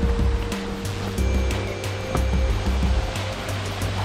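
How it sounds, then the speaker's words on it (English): The Grande Cascade, a small waterfall about three meters high near Tozeur, gives a steady, close rushing of falling water, loud and continuous, with some low rumbling and occasional thumps. "Right, here's the Grande Cascade."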